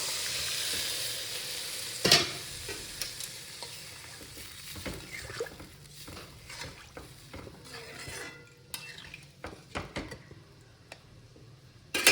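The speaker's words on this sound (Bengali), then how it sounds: "এবার কিন্তু মুগ ডালটা দিয়ে দেবো।" Moong dal tipped into a hot pan crackles and sizzles steadily while a utensil scrapes and taps against the metal in irregular bursts, close and fairly quiet.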